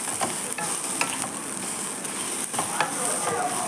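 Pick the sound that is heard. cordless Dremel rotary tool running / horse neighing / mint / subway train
mint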